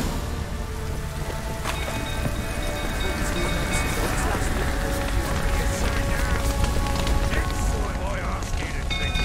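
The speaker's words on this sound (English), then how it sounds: "Looks like rain." Steady rain pours down in The Witcher 3 near a burning stable, a loud, constant hiss of drops on surfaces filling the whole stretch, with a few faint knocks and mechanical sounds underneath.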